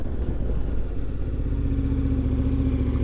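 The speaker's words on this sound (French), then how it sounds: "Allez, on va tester son freinage" KTM 1290 Super Adventure T motorcycle braking hard from 80 km/h; a steady engine drone close up, slowly winding down as the bike slows.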